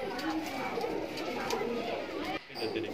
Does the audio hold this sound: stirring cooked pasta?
no